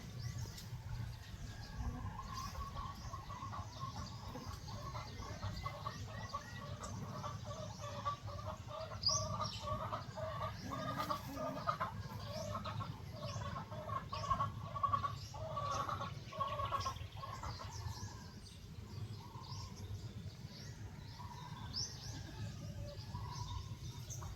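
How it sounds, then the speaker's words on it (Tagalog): Farm chickens of a local breed cluck in a continuous, moderately distant chorus of overlapping calls, rising busier midway, over steady low outdoor background noise. "Yan po yung ating manok."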